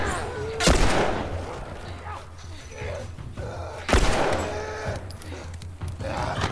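Two heavy, booming gunshots from a pistol in The Last of Us fire a few seconds apart, each a sharp loud crack with a rolling tail, amid in-game noise and a talking voice.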